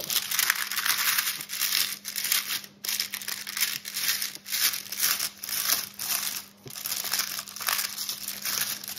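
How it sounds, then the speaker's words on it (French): Baking parchment paper peeled away from underneath a homemade craft piece, with loud close crinkling and crackling in repeated bursts and short pauses and a faint steady hum behind it. "Je vais essayer de retirer le papier sulfu en dessous"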